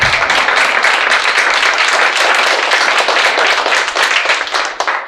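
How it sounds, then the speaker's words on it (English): A crowd at a housing rights organizing event in Seattle gives a round of applause: loud, dense, sustained clapping from many hands, close and continuous, thinning slightly near the end. "Give each other a round of Applause."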